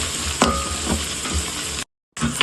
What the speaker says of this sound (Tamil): நல்லா எண்ணெயில வதங்கட்டும்.